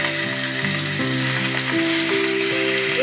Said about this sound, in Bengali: তেল গরম হয়ে গেছে, এবার এই তেলের মধ্যে ইলিশ মাছের মাথা দিয়ে